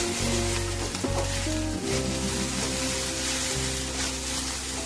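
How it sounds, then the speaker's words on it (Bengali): Sago pulao (sabur polao) cooks in a pan with a constant soft sizzle while a low, throbbing hum runs underneath and a few light scrapes of stirring break through. "আমি কিন্তু মাঝে মাঝে খুলে খুলে মানে নেড়ে দিচ্ছি"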